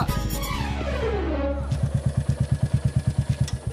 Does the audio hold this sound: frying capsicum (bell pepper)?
no